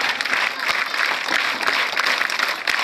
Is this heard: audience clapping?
yes